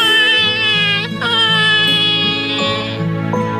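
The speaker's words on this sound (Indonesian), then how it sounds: "Ada yang menangis, adik-adik. Siapa yang menangis itu? Ya, bayi Ismail merasa kehausan." A baby wails in long, loud, close sobs with rising and falling pitch and brief breaths between cries. Soft background music plays beneath it.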